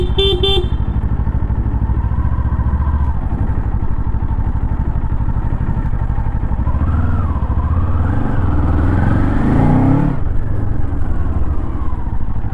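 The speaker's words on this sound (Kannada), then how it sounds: "Kawasaki Eliminator ರೈಡಿಂಗ್ ಎಕ್ಸ್ಪೀರಿಯನ್ಸ್ ಮಾಡೋಣ." A 2024 Kawasaki Eliminator cruiser motorcycle rides along with a steady, loud engine and exhaust drone, shifting tone as it accelerates, while a car horn honks nearby early on and traffic noise surrounds it.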